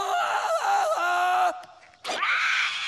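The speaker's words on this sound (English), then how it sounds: "A clear jungle yell tells everyone you're ready to swing." A cartoon character lets out a loud, strained jungle yell with a wavering pitch that drops, breaks off for a moment, then surges back in a second rising cry.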